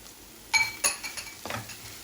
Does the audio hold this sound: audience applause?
no